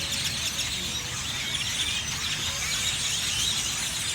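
A dense, continuous chorus of grackles roosting in a tree, steady high chatter and squeaks from a large flock at moderate distance, with no talk.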